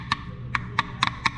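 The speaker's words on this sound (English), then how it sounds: "We're gonna hammer this thing pretty evenly." Five quick, sharp metallic taps from a hammer in an uneven rhythm, close and fairly quiet.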